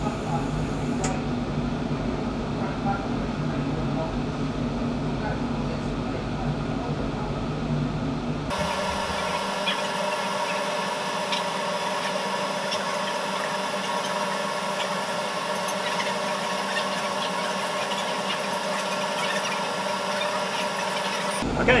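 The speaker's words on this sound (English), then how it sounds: "Here's our extractor that was donated by Draper Tools." Laser cutter at work in a makerspace with its Draper Tools fume extractor running, a steady close whirring hum that shifts abruptly to a brighter, airier fan drone partway through.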